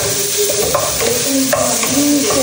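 Sinki, fermented Nepali greens, frying and being stirred in a pan, a close, steady sizzle with repeated scrapes of a utensil against the pan and no voices.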